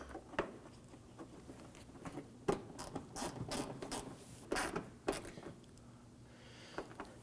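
A ratchet drives a bumper cover screw on a 2008-2011 Ford Focus, quiet clicking bursts at an uneven pace, close and alone.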